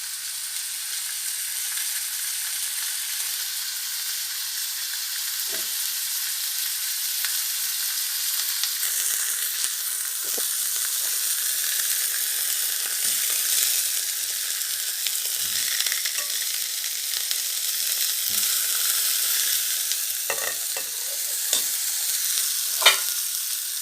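Butternut squash soup simmering and sizzling in a pot, a steady soft bubbling hiss throughout with occasional faint stirring clinks, close and continuous with no talking.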